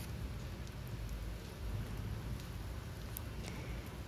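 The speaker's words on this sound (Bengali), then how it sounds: "পেঁয়াজটাকে হালকা লাল করে একটু ভেজে নেব।" Chopped onion with cumin and bay leaf frying in a pan for an omelette curry, giving a steady, dense sizzle like soft rain that runs without pause and stays fairly quiet.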